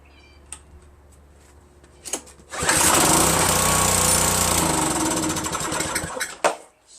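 A Craftsman pressure washer engine on a repair test coughs a few times, then catches and runs at a loud, steady clatter for about three seconds before cutting out, close by with no talking.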